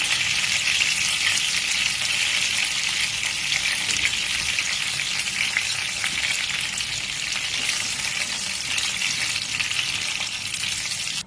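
Kebabs, kachche qeema or Bihari style, fry in hot oil in a pan with a steady, dense sizzle and crackle that holds loud and close throughout, with no voices over it.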